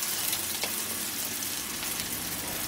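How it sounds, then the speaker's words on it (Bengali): Chopped onion frying in hot oil in a pan gives a dense, continuous crackling sizzle that stays close and even throughout, with no voices. "কুচানো পেঁয়াজটাকে 1 মিনিট তেলের মধ্যে নাড়ার পরে বাদবাকি সবজিগুলো দেব।"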